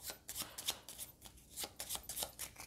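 A small pack of cards for the Zapotec board game being shuffled by hand, a string of quick crisp riffling and flicking bursts, close and quiet, with no voices.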